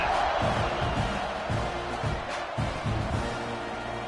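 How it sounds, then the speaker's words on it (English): Stadium crowd roaring in an NCAA 26 football video game before a kickoff, a dense continuous wall of cheering and noise heard up close, with a commentator's voice talking over it. "this crowd is feeling themselves after that last drive"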